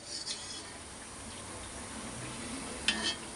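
Food frying in a home pan gives a soft, steady sizzle, with faint stirring scrapes and a brief clink near the end.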